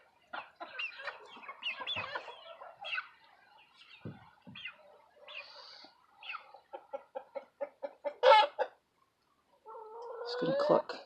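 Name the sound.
chickens clucking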